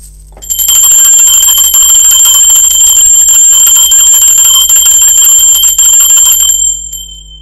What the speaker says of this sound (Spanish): Toma la energía de la frecuencia alta de la campana y enfócate en lo que necesitas conocer.